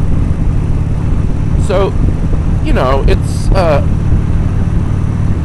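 Harley-Davidson motorcycle cruising down Sunset Boulevard in Los Angeles in third gear at about 45 mph, a steady close engine drone throughout, with a voice speaking briefly over it.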